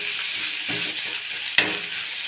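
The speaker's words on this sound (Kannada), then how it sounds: "ಆನಿಯನ್ ಹಾಕಿ ಚೆನ್ನಾಗಿ ಮಿಕ್ಸ್ ಮಾಡಿ ಈ ಥರ ಮಿಕ್ಸ್ ಮಾಡ್ಕೊಳ್ಳಿ." Sliced onion sizzles steadily in a hot pan for an egg curry, with a couple of scraping stir strokes, one sharper, cutting through the close, continuous frying hiss.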